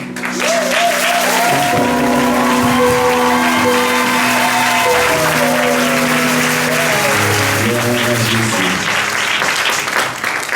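A church congregation applauding and cheering in praise, dense sustained clapping with shouts and whoops over a held music backdrop, loud and close throughout.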